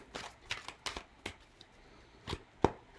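Tarot cards are shuffled close by in quick riffled bursts, about seven short papery flutters separated by brief pauses, with a sharper snap near the end and no talking.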